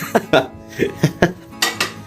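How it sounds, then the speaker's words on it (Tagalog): Dishes being washed in a home kitchen, with a series of short clinks and clatters of plates and utensils knocking together, close and moderately loud, in irregular bursts with no voices. "So yan, nagugas yan ng pinggan."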